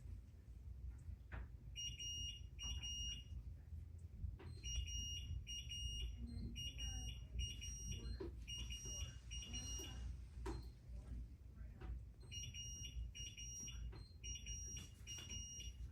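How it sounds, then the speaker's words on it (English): Repeated high electronic alarm beeps in bursts, like a smoke detector chirping, over a steady low background rumble with occasional clatter. "Sorry about all that beeping."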